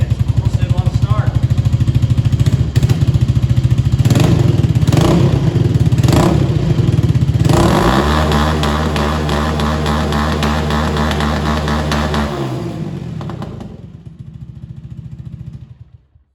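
A 2018 Honda Grom motorcycle that has been sitting a while cranks, catches and fires up, its small single-cylinder engine chugging loudly up close, then settling into a steady idle with a few blips before cutting off at the end.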